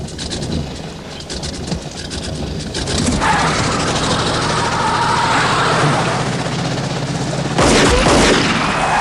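Gunfire rings out in a scene from the crime film Ransom, sharp rapid shots over a dense, loud, chaotic backdrop of noise, ending in a heavier burst near the end.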